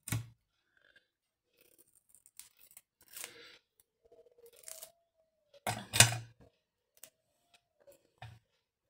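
Scissors snip through stiff double-sided tape in several short, crisp cutting bursts separated by quiet pauses, close and fairly loud, with faint handling noises between cuts.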